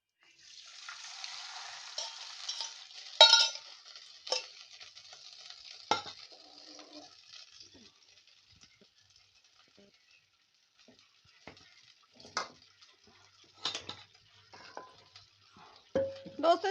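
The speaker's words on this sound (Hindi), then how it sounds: "इसमें हम घी डाल लेते हैं दोस्तों" Ghee poured into a hot pan for frying baati sets off a bright, airy sizzle with a few sharp pops and clinks, fading to a quieter crackle punctuated by occasional spatters.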